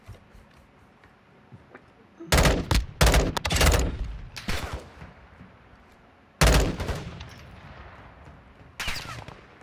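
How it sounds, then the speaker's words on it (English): Gunfire in Call of Duty: Modern Warfare II rips out in several loud, close bursts of rapid shots, separated by short lulls and ending with a final volley. "See gunfire there though."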